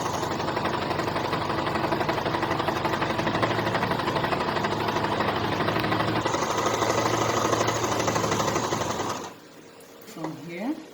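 A sewing machine runs steadily on its longest stitch, gathering tulle in a fast, even, whirring rattle for about nine seconds before stopping, followed by a brief rustle of fabric.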